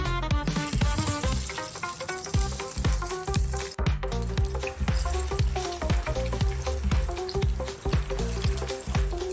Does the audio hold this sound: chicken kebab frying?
yes